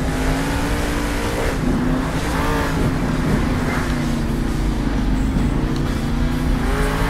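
Monster truck engine from the video game Monster Jam Steel Titans 2, revving steadily with a rising and falling whine as the truck drives toward a jump, loud and continuous throughout with no talking.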